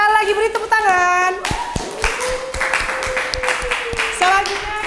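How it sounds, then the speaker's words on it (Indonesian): Children in a classroom clap their hands together in a burst of applause, steady dense claps close by, while a teacher and kids talk and call out over it. "Sekali lagi beri tepuk tangan."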